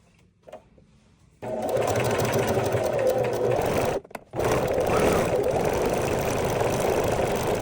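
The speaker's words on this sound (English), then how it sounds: "always do a test strip of fabric to make sure that your stitches and everything are fine" A sewing machine stitches a denim test strip, running in a fast, steady, close mechanical whir after a quiet start, with one brief pause before it resumes.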